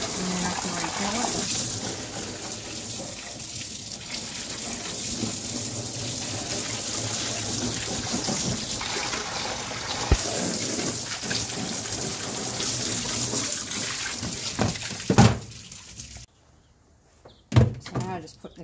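Tap water gushing to refill a dog bathing tank while grooming an Afghan Hound, a steady rushing flow lasting most of the stretch before stopping, followed by a few knocks and bumps.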